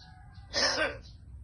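A single short cough bursts out close up, rough and breathy, with quiet background noise before and after.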